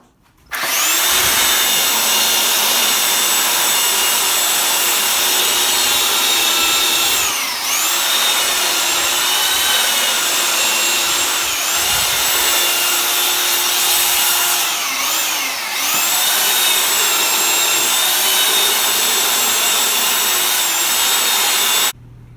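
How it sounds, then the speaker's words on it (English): A belt sander runs continuously and loudly for about twenty seconds, smoothing the rough edges of a wooden board storage rack. Its whine dips briefly a few times as the tool is pressed against the wood. "just playing around with the belt sander is all it is"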